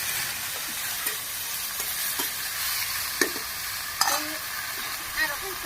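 Malabar spinach sizzles and fries in a pan while a utensil stirs it. A continuous hiss runs throughout, broken by occasional soft scraping knocks, and no one speaks.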